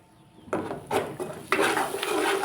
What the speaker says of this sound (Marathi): आता याला छान आपण परतून घेऊ हे जे मसाले आहेत ते मस्त भाजून घेऊ